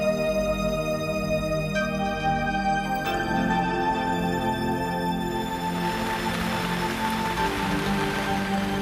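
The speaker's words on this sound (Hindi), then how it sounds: "यहाँ पर भी किसी भी मौसम में बारिश शुरू हो जाती है।" Steady rain pattering on a surface, growing into a dense, hissing downpour that fills the background throughout.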